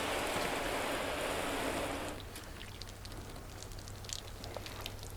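A garden hose on its shower setting sprays water onto a car panel, making a dense, even hiss for about two seconds before it stops, leaving faint dripping and pattering.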